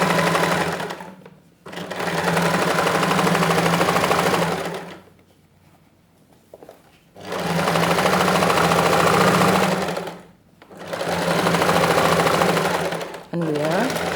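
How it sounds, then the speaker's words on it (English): A sewing machine stitches fabric for a woman's trousers in three long, steady runs of loud, close mechanical whirring, separated by brief pauses, one of them longer and near-silent. "So right now I will start sewing."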